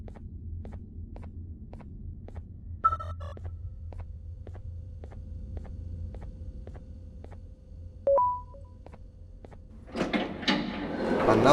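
A door in the video game Garten of Banban 4 sliding open, a rising mechanical whoosh and rumble near the end, preceded by steady ticking, a brief chime and a soft electronic tone.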